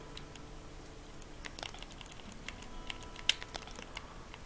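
Typing on an in-game keyboard in Animal Crossing: New Horizons, a quick run of light, rapid clicking taps, fairly quiet and alone without talk.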